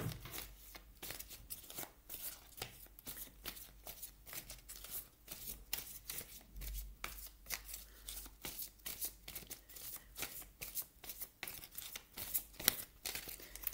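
Oracle cards shuffled continuously for a long stretch, a rapid steady riffle of papery flicks and slaps, soft and close, with no voice over it.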